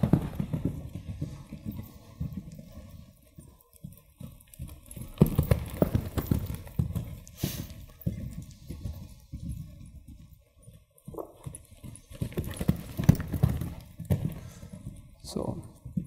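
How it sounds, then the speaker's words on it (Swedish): Hooves clip-clop on an arena surface during a riding lesson with a somewhat keyed-up horse, rhythmic steady hoofbeats close by while an instructor talks over them. "du har en lite taggad häst där, Alexandra,"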